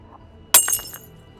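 A drinking glass dropping off a bedside nightstand in a hotel room and shattering, one sudden bright crash followed by a few short tinkling fragments, then quiet.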